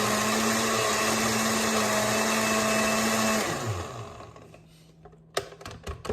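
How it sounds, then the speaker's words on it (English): A blender whirs steadily while blending chopped ginger, a loud sustained motor drone that winds down after about three seconds, then scattered knocks and rattles as the jar is handled. "And we are just gonna blend away."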